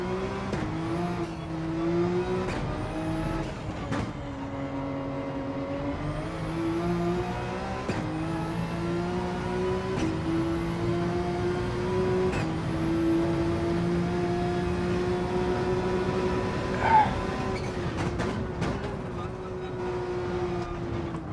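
A race car with straight-cut gears laps the Nürburgring, its engine droning steadily and loud with rising and falling pitch sweeps as it shifts, the sustained whine continuous throughout.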